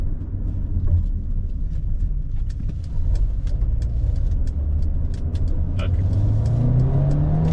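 A Mercedes GLB250 SUV accelerates hard to 60 mph, a steady engine and road rumble rising in pitch as it speeds up, heard from inside the car, with a brief spoken word.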